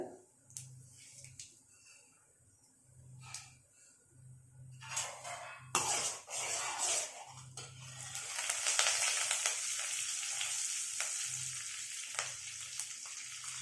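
Tempering spices crackle and sizzle in hot oil, then curry leaves are added for lemon rice; a steady frying hiss grows louder and denser in the second half, with occasional stirring scrapes.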